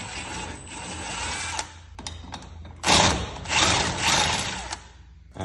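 Socket wrench with a 9/16 socket unbolting garage door spring hardware from a center bracket, giving a run of close metallic ratcheting clicks and clanks with short pauses between bursts, no talk.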